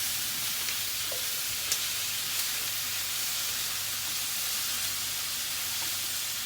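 Mushrooms and garlic sizzle and fry in a pan, a steady close hiss with faint occasional taps as they are mixed.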